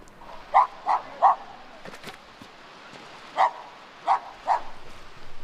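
Dogs in an Indian village bark several times at a distance, three quick barks, a pause, then three more, over a quiet outdoor background.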